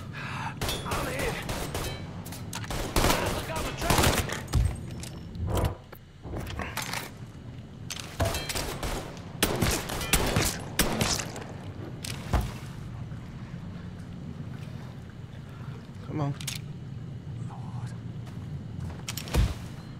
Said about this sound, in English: Where the hell they shooting from all the way over there?